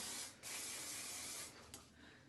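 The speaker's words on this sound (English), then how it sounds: "this is where I take my hairspray and I go over what I did." Hairspray is sprayed over pinned hair in a long hissing burst followed by a shorter one, close and steady, with no voices.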